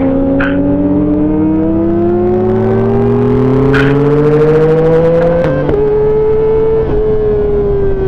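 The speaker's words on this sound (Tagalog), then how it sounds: "Grabe yung tunog ng motor niya ni Gong" A Kawasaki ZX25R motorcycle engine revs loudly and close during a street ride. Its high, sustained whine climbs steadily in pitch, then drops and settles.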